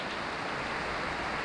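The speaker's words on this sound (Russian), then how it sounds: "Ливень." Heavy mountain downpour on a hiking route through a gorge, a dense, steady hiss of rain spread evenly across the whole moment with no voices.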